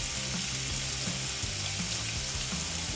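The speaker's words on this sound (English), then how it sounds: "I'm just gonna brown that up really, really nicely" Salted and peppered beef shank pieces browning in a pan for birria make a quiet, even sizzle with soft recurring low thumps and scraping, and no one speaks.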